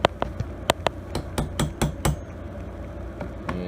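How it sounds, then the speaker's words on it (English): A hammer taps a socket on a 2000 Mercury 250 outboard tilt-and-trim unit to seat the dust seal, giving a series of sharp, close metallic knocks in an uneven rhythm, about a dozen strikes, with no talking. "So I got a hammer. You got the socket."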